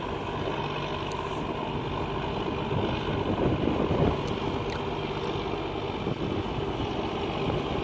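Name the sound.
wind noise on the microphone outdoors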